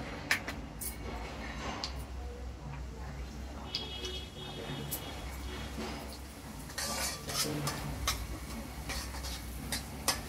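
Semolina roasting in ghee in a pan for jaggery sheera, with a spoon scraping and clinking steadily against the metal at close range while a voice talks over it.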